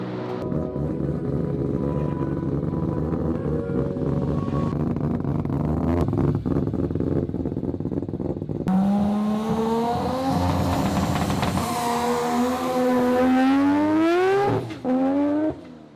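A three-rotor Mazda RX-7 launches hard from a standstill. It idles and burbles, then erupts into a loud, rising rotary wail through the gears, with a sharp pitch climb before it cuts off abruptly.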